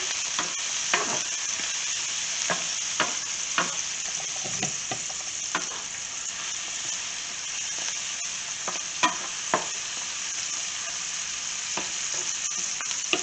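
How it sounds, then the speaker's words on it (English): Spinach fries with a steady sizzle in a pan while it is stirred and moved around, with scattered scraping clicks of the utensil against the pan throughout; no talking. "it says to cook this spinach for 2 minutes also, so we'll just keep moving it around here."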